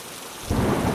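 Steady rain hissing down in a cartoon forest, swelling suddenly louder halfway through into a heavy downpour with a low rumble underneath.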